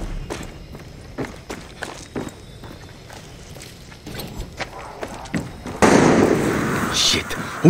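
Gunfire in Far Cry 6 crackles as a series of sharp distant pops mixed with footsteps, ending in a louder, denser burst, while someone speaks.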